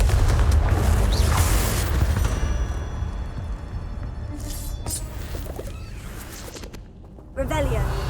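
A Confringo explosive spell in Hogwarts Legacy makes a loud, booming fiery blast that rolls off into a long, fading rumble, with scattered combat clatter and whooshes. Partway through it dies down, then a sharp new impact hits near the end.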